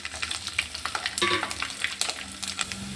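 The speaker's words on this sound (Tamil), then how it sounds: "புளியும் காஞ்ச மிளகா நல்லா ஃப்ரை ஆகிடுச்சு." Cumin, garlic and dried chillies fry in hot oil with mustard seeds in a pan, giving a crackling sizzle close by with repeated stirring scrapes.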